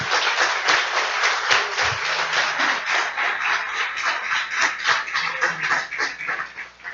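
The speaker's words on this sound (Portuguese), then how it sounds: "pode aplaudir Jesus, pode aplaudir Jesus." A church congregation applauds during a sermon, a broad and sustained wash of many hands clapping at a steady moderate level, with some irregular shuffling textures mixed in and no clear speech.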